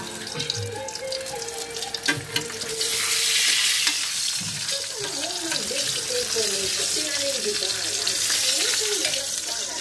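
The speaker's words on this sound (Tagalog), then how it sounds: "Nagsiprito ako guys ng pritong tilapia." Tilapia frying in a pan makes a loud, continuous hiss and crackle that swells after the first few seconds and holds steady, with some muffled kitchen clatter and light speech-like sounds underneath.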